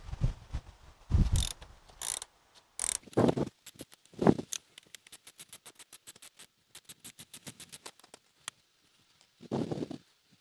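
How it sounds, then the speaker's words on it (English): A ratchet fitted with a 13mm socket turns a bolt beneath the intake manifold of a 2002 Chrysler PT Cruiser, giving rapid runs of sharp clicks between louder clunks and handling noises, close up, with no talking. "Use a 13mm socket to do it."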